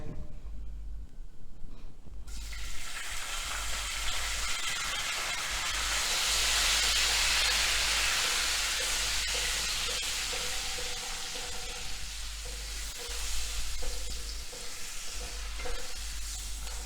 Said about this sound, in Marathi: मोहरी आपली तडतडली की आपण कडीपत्ता घालतोय